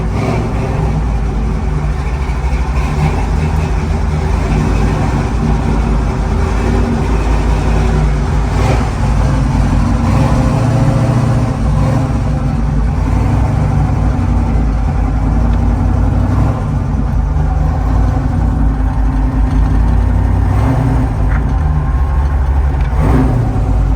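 A 1969 Chevrolet Camaro SS engine runs loud and steady for the whole stretch, a deep continuous rumble that swells as it revs up, with voices talking faintly over it.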